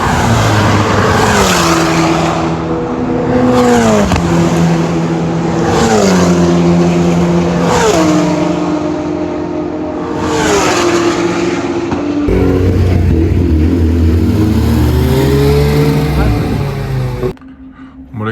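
A Porsche 992 GT3 screams down the race circuit straight at Dijon-Prenois, loud and close from the cabin, its engine climbing in pitch through several gears with brief drops at each shift.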